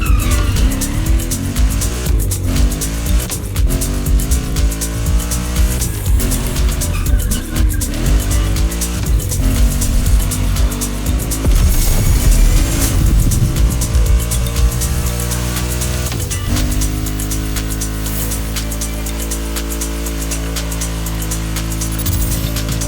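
Race cars tear along winding Hawaiian mountain roads in The Crew Motorfest, engines revving loud and close with repeated tire squeals and skids through the corners, a steady roar throughout.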